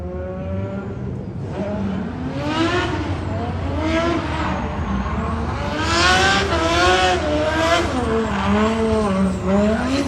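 A race car lapping Irwindale Speedway on a driver's first outing in it, its engine loud and continuous with repeated rising and falling revs and harmonic sweeps through gear changes, growing louder toward the end.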